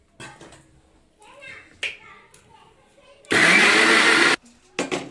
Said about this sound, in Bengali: এটা আমি একটা মিক্সচার গ্রাইন্ডারে দিয়ে একটা মিহি পেস্ট তৈরি করে নিচ্ছি